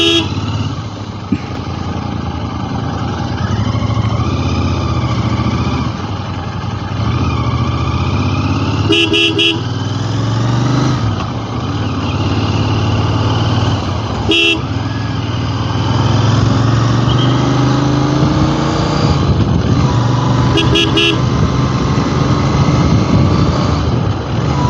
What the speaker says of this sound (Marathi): ते थोडीशी ट्रॅफिक लागले